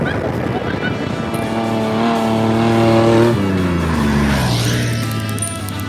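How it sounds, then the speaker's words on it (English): A loud racing engine roars closer and sweeps past at the Baja 1000 off-road race, its pitch dropping sharply as it speeds away. "We have some cars about to come by right now."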